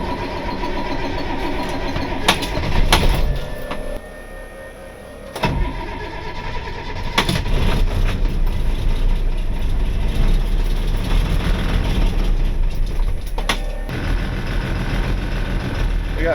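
Boom truck engine cranking, catching and settling into a rough, loud idle nearby, with a few sharp clanks and knocks over the steady rumble.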